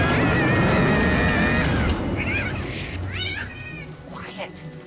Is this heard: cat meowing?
yes